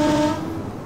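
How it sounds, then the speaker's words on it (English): A train horn sounds in the Open BVE simulator on a class 323 electric unit on Birmingham's Cross City line, a steady tonal blast held for about a third of a second before it cuts off and leaves a quieter rumble. "Nice horn."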